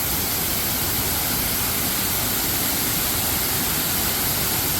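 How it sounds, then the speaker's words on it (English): A river waterfall rushes as a steady, loud broadband roar, continuous and close throughout with no voices. "But here's the waterfall."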